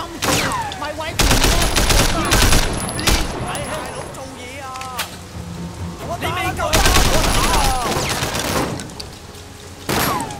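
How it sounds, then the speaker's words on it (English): Sleeping Dogs video game gunfire, loud bursts of rapid shots in several clusters with quieter gaps, while a player talks over and between the shooting. "I was shooting random innocents."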